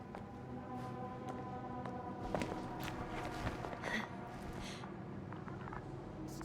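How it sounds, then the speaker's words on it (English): Footsteps of a character walking on the ground in the sci-fi video game The Invincible, soft and steady, mixed under a continuous bed of sustained ambient music and game sounds. "I have a lead. His footsteps."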